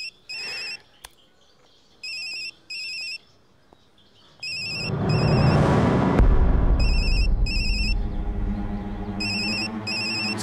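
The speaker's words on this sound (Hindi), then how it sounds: "आपका फोन बज रहा है, उठाएंगे नहीं?" A telephone ringtone rings in repeated electronic bursts, clear at first, then keeps ringing over a loud, sustained rumbling blast in an indoor scene from a Bollywood action drama.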